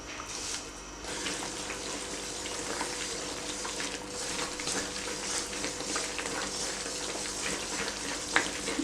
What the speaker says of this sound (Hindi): थोड़ी थोड़ी देर बाद इसमें चम्मच इस तरह से चलाते रहें ताकि गुड़ कढ़ाई के या पैन के पेंदे से चिपक ना जाए